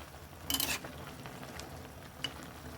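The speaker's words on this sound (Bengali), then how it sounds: "নাড়াচাড়া দিয়ে নিচ্ছি।" Puti fish and spinach curry is stirred in a pan, a faint low sizzle with a short burst of scraping near the start and a light clink later, no voices.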